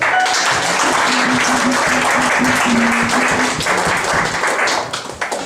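Sustained applause rises from a congregation at a church convention worship service, many hands clapping close and steady for several seconds, with a faint low hum underneath, before the clapping starts to thin toward the end.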